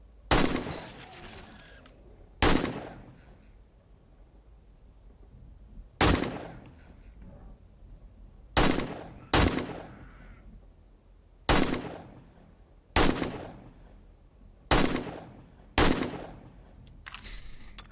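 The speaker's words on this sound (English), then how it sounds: "Let's try out our new AK here." AK rifle firing in the video game 7 Days to Die, set in a desert: about nine sharp, loud single shots spaced irregularly a second or two apart, each with a short decaying tail over quiet background.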